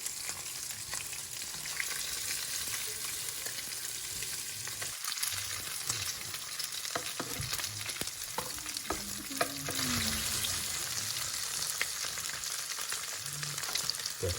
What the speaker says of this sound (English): We're gonna fry this pork until it's nice and golden brown